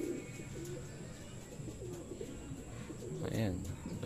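Racing pigeons coo softly near a loft after returning from a 96 km training flight in Pagsanjan, Laguna, set against steady outdoor background noise with a faint, murmuring voice.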